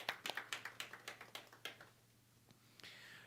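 A church congregation at a Sunday worship service claps in a quick, even rhythm of about a dozen sharp claps, then trails off into a few scattered claps. The sound is faint and somewhat distant.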